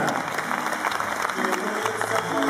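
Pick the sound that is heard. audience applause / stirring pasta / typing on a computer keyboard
audience applause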